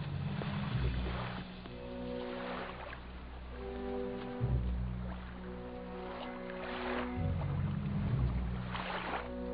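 A rowing boat moves across the water in Batumi harbour, with a steady low rumble and soft splashing and lapping. The sound carries on continuously, rising and falling in long swells, with no one speaking.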